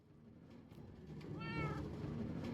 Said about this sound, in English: You hear the cats meowing outside.